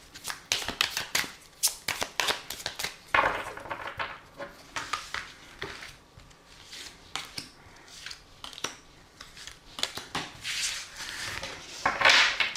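Tarot cards being shuffled for a reading: repeated crisp riffling and slapping bursts of cards, close and fairly loud, in irregular clusters with short pauses, no talking.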